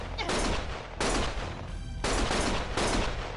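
Video game gunfire erupting in four dense, loud bursts of rapid shots, each cut by a short pause, harsh and close.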